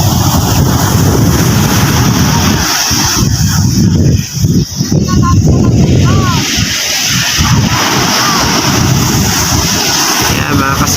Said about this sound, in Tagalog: Dumami tuloy ang alon.